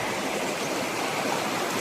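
A river rushing over rapids near a waterfall at Bedham Falls in Malinao, among giant trees, as a steady, dense, close wash of water noise with no break.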